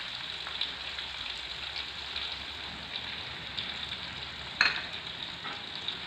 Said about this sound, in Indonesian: Sekarang kita aduk dulu sebentar ya